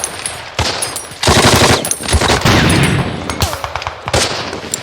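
Dense World War II small-arms gunfire from a war film: sustained automatic bursts and overlapping rifle shots, loud and close, with rapid chattering volleys that swell and fade in waves.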